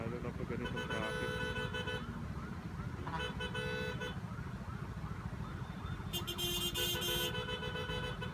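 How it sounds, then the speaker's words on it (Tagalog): Car horns honk in heavy Metro Manila traffic during a Mio Gear 125 scooter ride. Several short, bright toots stand out over a constant roar of engines and wind. "Busina ng busina eh,"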